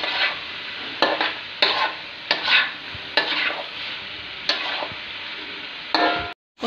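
Chicken and potato pieces for a chicken potato curry stirred and sautéed together in a pan, a steady close sizzle broken by repeated scraping strokes of the spoon, about one every half second to second, with no voices.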